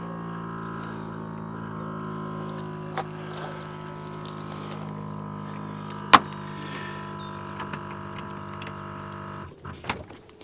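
A car's brakes are worked by a tow A-frame breakaway system: a steady mechanical whine with humming tones runs for several seconds, broken by a single sharp click and ending in a few short clunks.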